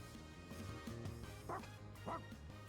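A dog barks twice in an animated adventure game, two short yelping barks about half a second apart, set against quiet background music.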